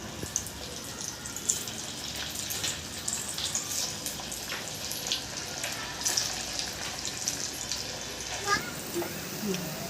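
Alu vadi, colocasia rolls, frying in hot oil, a steady moderate bubbling sizzle with occasional small clinks, under quiet talk.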